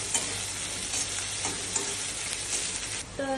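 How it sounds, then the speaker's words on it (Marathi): Onion sautés in a pan for paneer bhurji, a steady soft sizzle with light stirring scrapes running throughout, close and fairly quiet, with no talking. "कांद्याला थोडं सॉटे करून घेऊया."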